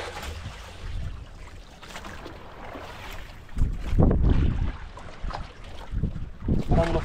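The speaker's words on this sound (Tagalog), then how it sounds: "Grabe ang alon dito mga katropa sa ano, gitna ng karagatan." Big ocean waves rolling around a small fishing boat out at sea, heard as low, surging rumbles and gusty wind buffeting, rising in heavier swells toward the end.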